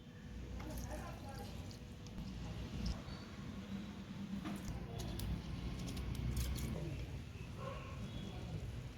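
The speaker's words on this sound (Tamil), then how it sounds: "ஃபர்ஸ்ட் இப்போ நம்ம அரிசியை கழுவி உல வச்சிடலாம்" Rice being washed by hand in a bowl of water, with a steady wet swishing and patter that continues for the whole stretch at moderate closeness.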